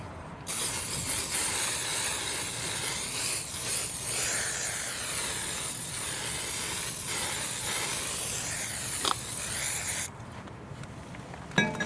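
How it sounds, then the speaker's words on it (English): Brake cleaner sprays in a long, loud continuous hiss over a new rear brake rotor for a 2019 Lexus UX, washing off its oily coating, then stops abruptly, leaving quiet rustling. "That's why you need to use the brake cleaner to wash it off before you install it in the vehicle."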